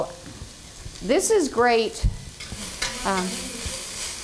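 Food sizzling steadily in a pan in a Williams-Sonoma kitchen, a close, constant frying hiss under someone talking.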